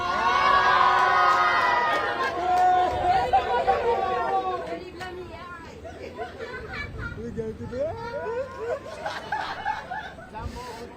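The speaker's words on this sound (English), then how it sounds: "You can see the crowd cheering away." A lively crowd at a rugby nines playoff match in Sepik cheers and chatters continuously, with laughter and shouting voices rising and falling throughout.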